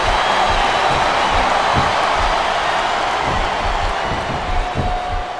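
A wrestling arena crowd in the Xbox 360 game WWE Smackdown vs RAW 2007 roars and chants with a dense, continuous wash of noise and a faint rhythmic pulse, loud and unbroken throughout.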